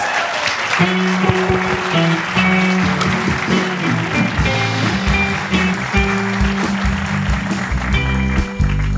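An audience applauds a duo with loud, sustained clapping that fills the room, while a tonal hum and music play underneath.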